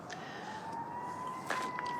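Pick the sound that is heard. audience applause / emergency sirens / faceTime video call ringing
emergency sirens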